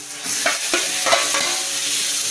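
Chicken is stirred through a masala paste in a pan, with repeated scraping strokes over a loud, continuous sizzle, close by and with no voices.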